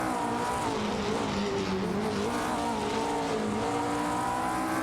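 Race cars, a Matra MS7 and a Tecno, roar together in an AI racing simulation game, steady high-pitched engine drones with shifting pitch running continuously and loud throughout, no voices.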